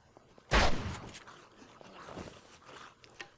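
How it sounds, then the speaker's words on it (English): A single loud, close shotgun blast in 7 Days to Die, followed by a quieter rustle and scraping tail. "we'll just shoot this guy with a shotgun"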